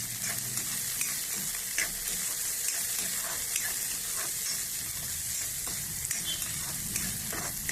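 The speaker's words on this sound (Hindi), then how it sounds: "अब इसमें बैगन को डालेंगे।" Chopped onion and eggplant frying together in a pan for masoor tahri, a loud, even crackling sizzle heard close up with scattered stirring scrapes and no talking.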